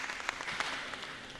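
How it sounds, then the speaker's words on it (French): A short burst of audience applause at a farmers' general assembly, with a few sharp claps standing out over a moderate, brief patter of hands and no talk. "On applaudit encore pour monsieur."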